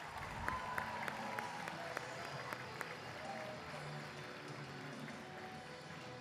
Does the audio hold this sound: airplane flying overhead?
no